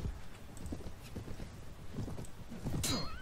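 Horse hooves clip-clop in quick irregular steps in Mount & Blade: Warband during mounted combat, with a short whinny and a sharp swoosh near the end of the busy game soundtrack.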